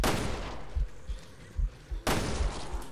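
Gunfire in the Resident Evil video game, two loud sharp blasts with heavy echo and several duller thuds between them, played close and loud with no talking over them.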